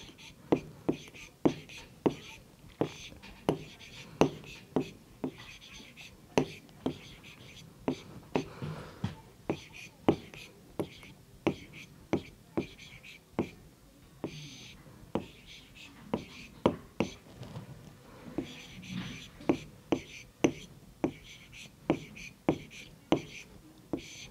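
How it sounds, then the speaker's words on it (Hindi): Handwriting on paper while answers are filled into a table, sharp regular tapping strokes recurring every second or so, close and crisp, under soft whispered talk. "तो हम यहाँ लिखेंगे"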